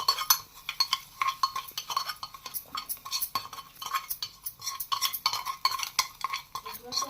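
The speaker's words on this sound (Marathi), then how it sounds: "रव्यात टाकून ते सर्व एकजीव करून घ्यायचं" A spoon stirs fried mustard seeds, cumin, curry leaves, chilli and onion into semolina in a metal pot, giving steady scraping and clinking strokes that repeat close up with no talking.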